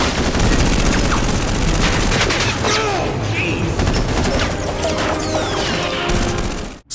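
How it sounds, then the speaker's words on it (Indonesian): Film shootout at a harbour, with dense, loud gunfire bursts and crashes running almost continuously for about seven seconds before cutting off abruptly. "Mereka juga memutuskan untuk baku tembak dengan Paijo agar bisa keluar dari pelabuhan."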